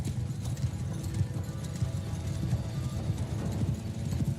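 Horse archers in a video game riding at a steady pace, many hooves clip-clopping in a dense overlapping rhythm, loud and close with a few distant neighs.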